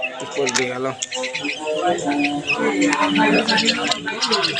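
Common myna chirps and calls repeat busily throughout, mixed with faint voices and household noise in the background.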